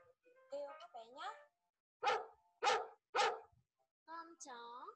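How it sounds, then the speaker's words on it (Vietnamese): A domestic dog gives three loud, close barks spaced about half a second apart, with a child-like voice speaking before and after. "Con chó."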